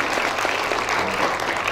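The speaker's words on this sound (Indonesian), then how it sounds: "Tepuk tangan." An audience claps steadily at a university graduation ceremony, with dense, even applause filling the whole short moment.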